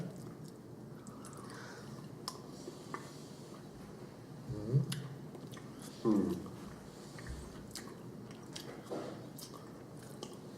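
Bites and chewing into a thick, darker chocolate Easter bunny, heard as two louder close bites amid soft, quiet crunching and mouth sounds.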